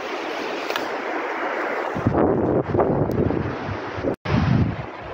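Strong wind gusting across a microphone outdoors on a cold night, a steady loud roar that surges harder partway through, with a brief sudden dropout near the end.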